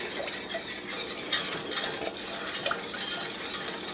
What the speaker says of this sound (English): I'm whisking this together